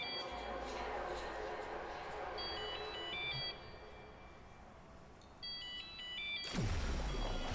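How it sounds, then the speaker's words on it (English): A cell phone in a video game rings faintly with a repeating electronic ringtone through the first half, then again near the end, low beneath game ambience and a dense wash of background noise. "Another cell phone."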